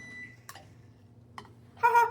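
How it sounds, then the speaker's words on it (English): A microwave timer goes off while vegetables cook, a short, bright electronic beep near the end after a couple of faint clicks in a quiet kitchen. "the timer just went off in the microwave for the vegetables"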